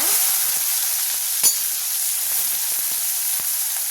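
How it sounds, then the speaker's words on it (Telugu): Mustard seeds, cumin and a dry red chilli fry in a spoonful of hot oil, giving a steady bright sizzle with a few small pops and crackles, close and alone. "ఒక స్పూను ఆవాల జీలకర్ర వేస్తున్నా అలాగే ఒక ఎండుమిరపకాయి ఆవాల జీలకర్ర ఫ్రై అయ్యాక"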